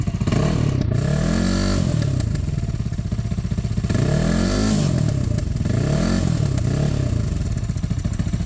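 A Geon Scrambler 300 motorcycle engine with a quietened exhaust revs repeatedly, rising and falling in three or four swells over a steady rumbling idle, close and loud.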